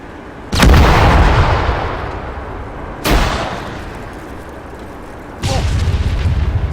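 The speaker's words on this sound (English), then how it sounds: "Currently engaging the artillery piece with AG." Heavy artillery fire in a military video game during an ambush training mission, three loud booming shots spaced a few seconds apart, each followed by a rumbling decay.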